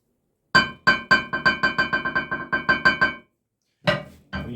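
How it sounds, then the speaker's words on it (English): Worn engine rod knock, a loud metal-on-metal striking, comes as a fast run of about a dozen sharp clanking hits followed by a pause and two more strikes, close and harsh with no talking. "it's going to start making a striking noise."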